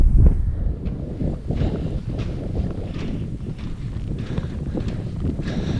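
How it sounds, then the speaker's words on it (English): Wind blows across an open mountain plateau, rumbling steadily against the microphone with gusty buffeting, loud and close, with faint footsteps underneath. "Wind's picked up a little"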